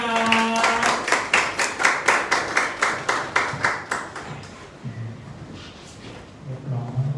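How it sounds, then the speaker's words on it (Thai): Guests at a Thai wedding procession and engagement ceremony clap in a steady, rhythmic burst of about a dozen beats. The applause then fades into crowd murmur and scattered voices. "ขอเสียงปรบมืออีกครั้งค่ะ"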